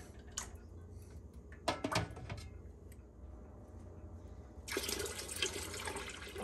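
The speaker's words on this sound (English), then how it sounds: "we got our water up over the tops of our jars now" Water gushes into a large pot of pickled bean jars set up for a water bath canning, with bursts of clinking and splashing early, then a steady rushing pour that swells near the end, close and fairly quiet.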